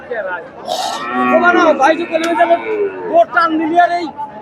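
A cow moos loudly and repeatedly at close range, its long low calls rising and falling over a busy crowd of chattering voices at a cattle market in Bangladesh.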